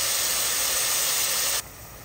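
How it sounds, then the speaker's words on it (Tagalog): A loud steady hiss of water boiling vigorously in a cooking pot with sautéed bottle gourd and sardines fills the clip, then drops abruptly to a quieter hiss near the end. "Ayan, kumukulo na."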